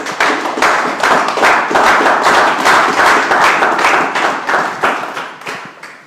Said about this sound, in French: On acclame d'abord ça.